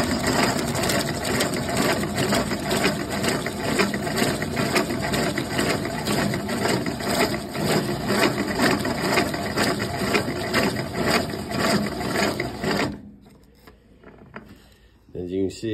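A Stanley No. 77 dowel machine cuts an oak dowel, producing a fast, continuous ratcheting, gear-like chatter that is loud and close for most of the stretch, then drops off abruptly near the end with a few faint clicks.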